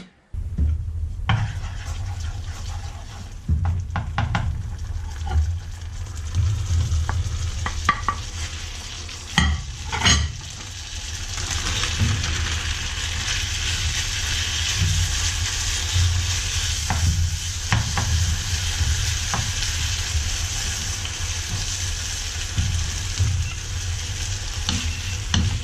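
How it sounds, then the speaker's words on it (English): Chicken and vegetables stir-frying in sauce in a pan, a low food sizzle under steady scraping and stirring, with brief louder clatters of the utensil against the pan. "So we're stir frying everything together here"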